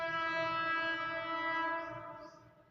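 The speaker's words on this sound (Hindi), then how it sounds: "मुझे गाड़ी का हॉर्न सुनाई दे रहा है, ट्रेन का।" A train horn sounds from a distance, one long steady tonal blast carrying echo before fading out toward the end.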